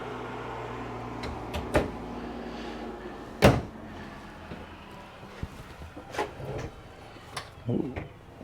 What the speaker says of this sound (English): All self-closing drawers.